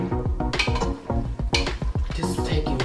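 Hot Alfredo sauce and noodles are stirred in a pan, a steady rhythm of wet squelching and sizzling strokes repeating close up, with no talking.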